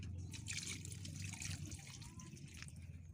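Gravy being poured, a soft wet trickle and splash of liquid in a home kitchen, faint and close, with small bursts of pouring over a low background hum.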